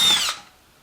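A power drill whirs briefly as it drives a number 6 by 3/4 inch screw into a round wooden feed pan shelf, a short close burst that stops abruptly and leaves only quiet room tone.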